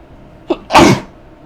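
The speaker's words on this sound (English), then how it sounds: "gotta sneeze." A single loud, close sneeze with a short sharp intake just before it, alone and with no talking.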